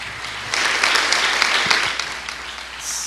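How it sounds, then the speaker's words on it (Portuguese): At a family service in a Quadrangular Gospel church, the congregation bursts into brisk applause that swells and then tapers off, with no one speaking over it. "Você pode aplaudir Jesus com alegria, bem forte, bonito."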